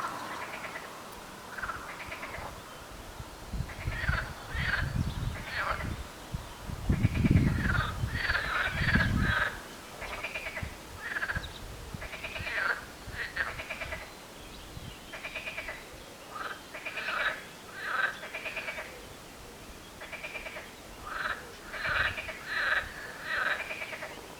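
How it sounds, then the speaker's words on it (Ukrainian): A chorus of frogs croaking outdoors on a sunny day, repeated rhythmic bursts of calls throughout, with a few heavier low thumps partway through and steady background noise. "Це відео для тих, хто не знає, як співають жаби."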